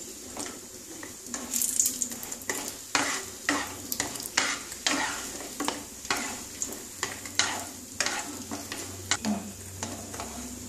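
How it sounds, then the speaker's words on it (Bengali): Lentil dumplings (bori) fry in hot oil for a potato and pointed gourd curry, a soft sizzle broken by repeated scraping stirring strokes in a regular rhythm, close up. "বড়িটা দিয়ে দিচ্ছি। একটুখানি সামান্য করে ভেজে নেব একটু লাল লাল করে"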